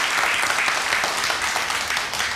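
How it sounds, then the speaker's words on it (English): Dense, steady applause from an audience fills the space, loud and continuous from start to finish with no voices on top. "You're all clapping."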